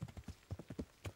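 Quick, rhythmic clip-clop of a white horse's hooves in the video game Kingdom Come, about a dozen crisp hoofbeats in a trotting pattern, close and clear.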